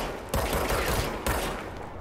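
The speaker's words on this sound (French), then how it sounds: "Tirer avec l'arme de service." Service weapon gunfire in the video game Control: a quick pair of loud, close shots with a brief gap between them, sharp and reverberant, with no voices.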